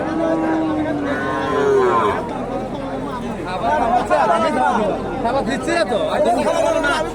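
Sahiwal heifers and other cattle moo repeatedly amid a busy livestock market at Hasokhali cattle market, with crowd chatter and people talking throughout; the lowing is loud and close.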